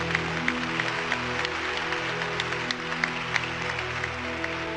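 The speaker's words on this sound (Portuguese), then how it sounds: "Aplaudamos a palavra de Deus com muita alegria" A church congregation claps together in a steady, sustained round of applause, with many hands close and distant under a faint organ-like hum.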